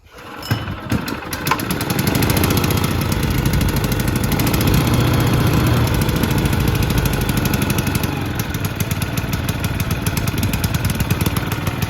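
An old engine, still cold and not yet warmed up, sputters to life and then runs at a steady, loud, rough drone that holds without pause until the end.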